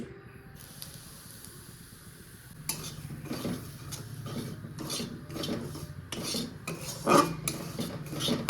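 Semolina is fried in ghee while a spoon works the pan: a quiet start gives way to repeated scraping strokes and clinks of metal against the pot, with a faint hiss beneath.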